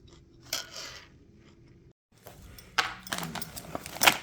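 Someone chewing green beans at close range: crisp, irregular crunching and moist bites, quiet at first and then louder, with no talk.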